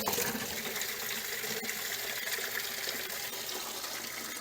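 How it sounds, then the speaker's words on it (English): Water draining from an RV water heater tank into a 5-gallon bucket, a steady close splashing gush that holds at an even level without a break. "So now we'll just sit here and drain the whole tank."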